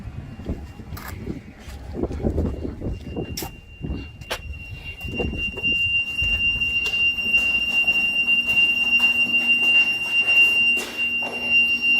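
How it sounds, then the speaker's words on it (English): An Acutec 35 chlorine sensor alarm goes off during calibration testing, a steady high electronic tone that begins about halfway through and holds continuously, with some clattering and handling noise before it and a low hum of fans. "Now we can tell that our alarm's gone off, our fans kicked on, light outside's kicked on."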